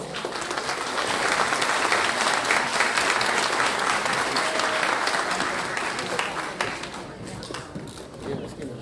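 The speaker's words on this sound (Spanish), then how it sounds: "para quien pido fuertes aplausos" A room full of people applauds at an academic ceremony in Lima, a dense, steady roar of clapping that holds for most of the stretch before thinning slightly near the end.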